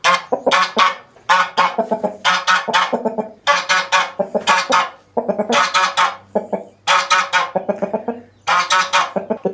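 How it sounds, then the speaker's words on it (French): A Sussex rooster and hens call loudly and repeatedly at close range, harsh honking crows and clucks coming in quick bursts with brief pauses between them. "voici le coq"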